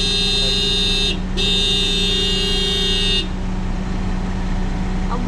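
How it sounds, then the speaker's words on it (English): Car horns honking in Israeli city traffic: a loud sustained horn blast, briefly broken and resumed, then cutting off, over a constant engine and street hum. "people that are in the back, they just keep honking for no reason"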